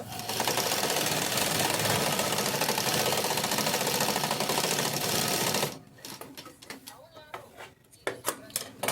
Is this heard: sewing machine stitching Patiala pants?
yes